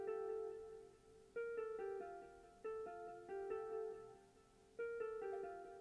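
A beat plays dry, with no vinyl effect: a repeating plucked melodic pattern of clean, bright notes in an even rhythm, each phrase starting with a sharp attack that then decays, moderately quiet and without any voice.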